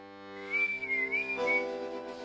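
A single person whistles a short serenade melody, clear and close, with a few sustained and gliding notes over quiet background.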